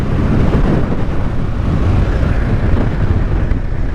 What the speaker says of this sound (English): Oh, she's windy.